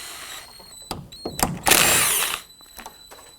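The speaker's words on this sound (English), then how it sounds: "Using a 10mm socket, go ahead and loosen and remove these nuts." A power tool with a 10mm socket spins off the mirror nuts on a Nissan Murano, a few short whirring bursts followed by one longer, loud run, close up with no talk.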